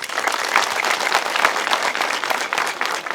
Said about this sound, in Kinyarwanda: Turagira ngo mwihe amashyi kuri iki gikorwa.